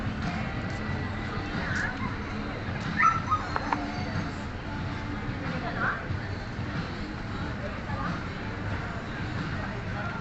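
Dog whimpering and yipping for food at a simple birthday celebration, short whines and yips recurring over a busy background of voices and clatter.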